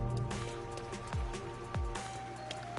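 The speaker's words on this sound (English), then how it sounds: "Bless the rain." Rain in the video game Rain Code, a steady hiss of falling rain and drops under a moody musical backdrop, with a couple of deep descending thuds cutting through.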